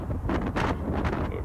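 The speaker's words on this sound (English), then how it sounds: "Oh, that's the gust of wind there." A gust of about 17 miles an hour roars in the X-Plane 11 flight simulator at Erie airport beside an Embraer E145 during a cold-and-dark startup, a steady loud rush of wind noise with no voices.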